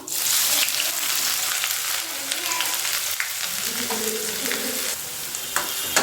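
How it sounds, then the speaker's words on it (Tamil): Chopped shallots sizzle with mustard seeds in hot oil for a kaara chutney, a steady close hiss and crackle with occasional scrapes of stirring, and no talking. "கடுகு பொரிஞ்சதும் சின்ன வெங்காயத்தை பொடி பொடியாக கட் பண்ணி வச்சுருக்கேன், இதை சேர்த்துக்க போகிறோம்."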